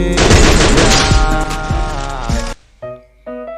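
An M60 machine gun in the video game Free Fire lets out a loud, dense burst of rapid shots for a couple of seconds, followed by a few short electronic game tones.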